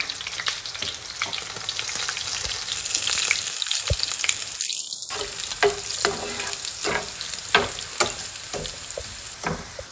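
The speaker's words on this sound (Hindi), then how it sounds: "साथ ही हरी मिर्चें, जीरा और मिर्ची डालना।" Green chillies and cumin sizzle and fry in hot oil along with garlic, a constant crackling hiss broken by sharp pops and the scrape of stirring.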